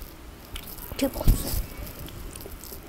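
Maltesers chocolate balls crunched and chewed up close in a mukbang setting, a few brief biting crunches near the middle amid soft mouth sounds, with some talking over it.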